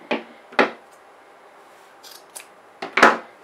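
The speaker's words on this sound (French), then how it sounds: "Maintenant, je prends une anse. Donc, moi, je vais la couper." Scissors snipping through a fabric tote bag handle while sewing: two crisp cuts near the start, a few faint rustles, then a louder double snip near the end, close and clear in a quiet room.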